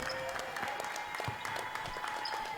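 Basketball crowd applauding in an Athletic Center at a college men's game, steady dense clapping with scattered cheers filling the hall, moderately loud and continuous throughout.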